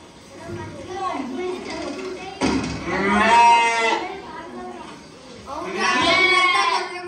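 Sheep bleat at night out in the cold, several long wavering cries close by, one after another, mixed with people talking.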